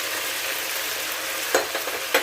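Ginger and garlic frying in a pan for chilli chicken, a steady close hiss of sizzling oil with a couple of brief stirring scrapes near the end.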